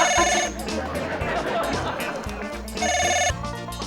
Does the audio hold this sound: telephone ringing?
yes